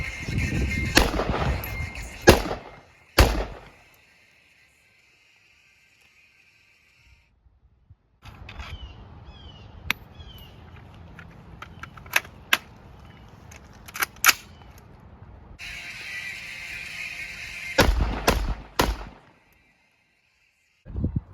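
Several 5.56 rifle shots fired through a Witt Machine SME muzzle device, a couple of close sharp reports at the start and a cluster near the end, with quieter clicks and handling noises between them.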